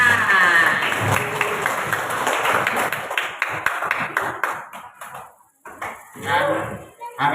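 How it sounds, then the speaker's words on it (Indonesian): A classroom or gathering breaks into applause, a dense burst of many hands clapping that thins out and swells again, with voices mixed in. "Nah, tepuk tangan."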